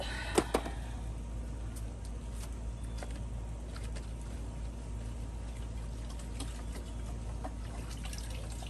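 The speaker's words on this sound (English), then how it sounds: "I'm just dunking them in water here." Plants are dunked into water, a soft continuous sloshing and pouring of liquid heard up close, opening with a couple of sharp knocks over a steady low hum.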